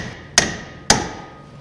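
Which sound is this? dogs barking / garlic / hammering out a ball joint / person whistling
hammering out a ball joint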